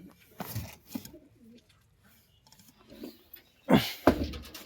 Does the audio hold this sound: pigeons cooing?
yes